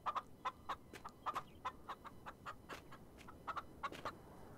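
Chickens in the farming video game Farm Together cluck in short, quick bursts, a faint scattered series of sharp clucks with brief pauses between them.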